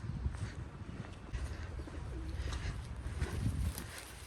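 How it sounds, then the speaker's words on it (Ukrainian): Soft pigeon coos come and go over a steady outdoor background, with a faint rustle and distant ambience throughout. "Скільки тут голубів, хай бог мило."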